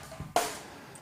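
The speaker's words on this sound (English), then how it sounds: "and the room mic sounds like this." Drums captured through a room microphone, a single roomy hit with a bright, washy decay that rings out for most of a second, preceded by a softer low thump.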